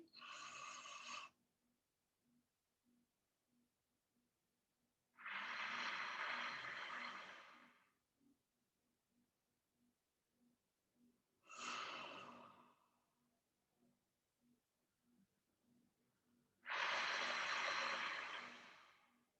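Slow, deliberate breathing exercise with four long breath sounds, airy inhales and exhales separated by silent holds of a few seconds, close and fairly quiet with no talking.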